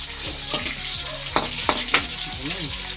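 Chili and onion sautéing in a pan, with a steady broadband sizzle and a few sharp stir scrapes and clinks of the utensil, close and continuous with no talk.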